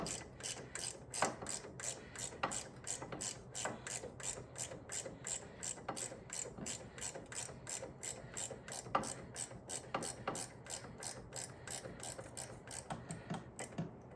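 A ratchet tightens a part on a Yarbo robot during spring maintenance, clicking in a fast, even series of sharp metallic pawl ticks that run the whole time, close but fairly quiet.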